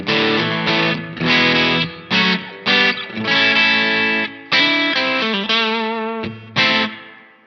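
An electric guitar played through distortion and chorus effects pedals, with only faint reverb, sounds a string of short, loud, gritty chords and notes. The notes cut off abruptly into near silence between phrases, with no voice.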